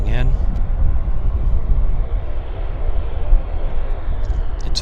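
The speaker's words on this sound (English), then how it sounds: "We've got a Q400 coming this way." A Q400 turboprop taxis at Vancouver Airport, giving a loud, steady engine rumble that stays constant throughout, close to the listener.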